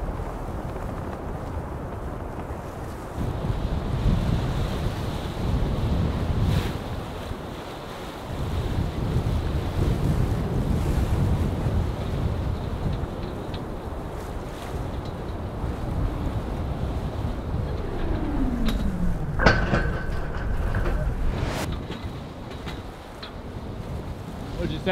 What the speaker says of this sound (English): The wind grew.